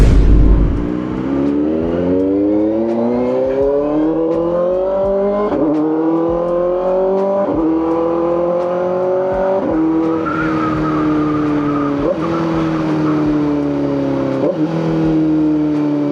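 Kawasaki ZX-4RR sports bike engine with a quick shifter, revving high and climbing through gears with repeated quick upshifts, each rising whine briefly dropping in pitch, loud and close throughout.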